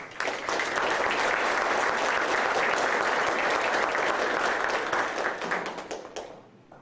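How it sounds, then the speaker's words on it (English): Audience applause at an awards ceremony, a dense, sustained round of clapping from a full room that holds steady for several seconds and then tapers off at the end. "Let's give them a round of applause, please."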